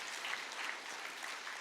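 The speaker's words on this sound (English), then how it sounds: "I think we deserve an applause for the police department." Quiet, steady applause from an audience at a state-level World No Tobacco Day observance, honoring the police department, with dense, even clapping throughout the short stretch.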